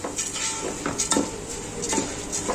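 A spoon stirs basmati rice with onion and garlic in a metal cooking pot, giving repeated close scraping clinks and light knocks at an uneven, steady pace.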